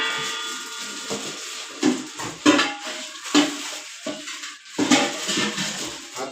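A steel container clanks and scrapes as it is handled during unboxing, giving several close metallic knocks and rattles at an uneven pace.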